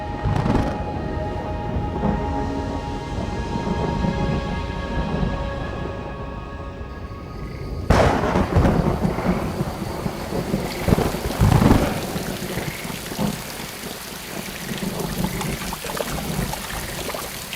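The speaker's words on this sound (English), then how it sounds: "Rain is already falling in the surrounding mountains, and now it arrives in the Pantanal itself." Steady rain pours down over the Pantanal wetland plain with deep rolls of thunder rumbling through, the downpour growing heavier and noisier partway through.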